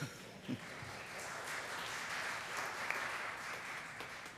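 Church congregation applauding a deacon after the gospel reading, a steady wash of many hands clapping at moderate distance, sustained evenly for several seconds with a couple of brief voice sounds at the start.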